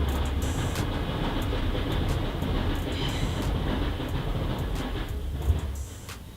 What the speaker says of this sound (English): There's a bloody train.